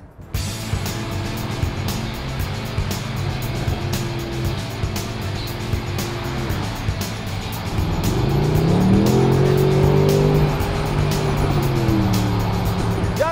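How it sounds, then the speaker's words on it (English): A Mercedes-AMG SLS Roadster in Sports Plus mode pulls away under throttle, a steady engine drone building into a louder rising exhaust roar as it accelerates through the gears, heard from inside the open car. "you can certainly hear that exhaust system a lot better in the convertible than you can in the gull-wing"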